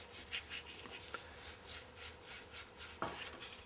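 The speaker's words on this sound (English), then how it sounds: "And burnish it with a few little chips." A handful of wood chips is rubbed against a turned wooden Federal period finial on the lathe, giving a soft, quiet, continuous scratchy rubbing with a few light clicks near the end.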